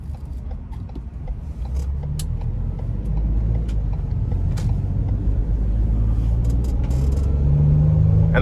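A 2015 Explorer Ford Transit-150 conversion van with a 3.5-liter twin-turbo engine drives along, its steady cabin rumble of engine and road noise building slightly, with occasional creaks and rattles and no talk.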